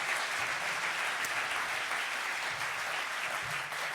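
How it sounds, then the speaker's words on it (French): An audience at the closing ceremony of a comedy festival in Mont-Blanc breaks into sustained applause, a steady wash of many hands clapping at moderate distance with no voices over it. "Est-ce qu'on peut l'applaudir bruyamment?"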